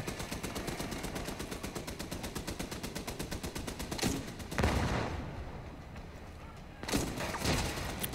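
In The Division 2, fighting at Tidal Basin, a rapid automatic burst rattles in a steady fast rhythm for about four seconds, then breaks off into heavier blasts and a booming impact, with another loud shot near the end.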